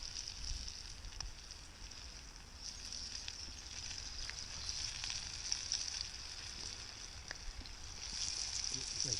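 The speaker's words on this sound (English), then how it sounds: "I'm giving a little preview of the fish fry." Fish sizzles in a pan over a backcountry kayak campsite stove, a steady bright frying hiss that runs unbroken throughout at moderate loudness.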